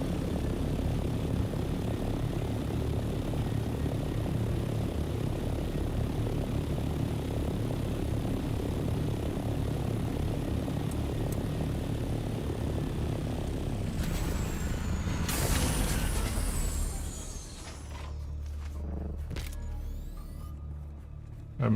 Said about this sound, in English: Sector weather alert. A large sandstorm is approaching.